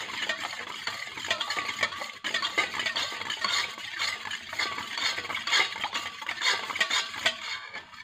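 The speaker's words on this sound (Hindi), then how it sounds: "इस तरह दही में मिक्स करके अच्छी तरह चम्मच वगैरह हिला लें ताकि ये अच्छी तरह मिक्स हो जाए।" A spoon stirs a mixture into yogurt in a bowl, giving a steady run of soft scraping and light clinking close by, with no voices.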